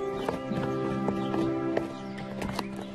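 A horse whinnies over a steady clip-clop of hooves, with the rhythmic hoofbeats loud and close under a faint musical background.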